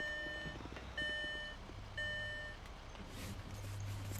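Garbage truck reversing in the video game Amigos City, three evenly spaced electronic beeps about a second apart over a low engine rumble, then the engine alone.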